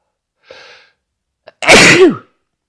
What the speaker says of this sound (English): I think we're done sneezing now.